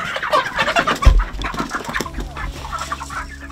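Chickens clucking and squawking close by in a Jamaican yard, busy overlapping calls with a brief low thump near the start, no talk.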